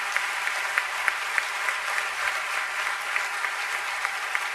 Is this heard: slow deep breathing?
no